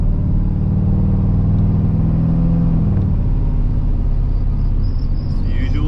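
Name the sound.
square body Chevrolet Suburban truck driving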